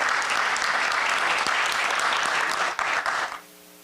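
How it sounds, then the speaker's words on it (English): An audience at a school alumni reunion applauds loudly in a thick, even roar of clapping that dies away abruptly near the end, leaving a faint hum. "Please join me in applauding for Mr. Athar Murtaza."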